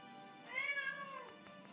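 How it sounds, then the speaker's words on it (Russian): A pet cat lets out a single drawn-out meow, fairly quiet and close, rising and then falling, with near silence around it. "вы слышите, как мой кот, типа, мурлыкает"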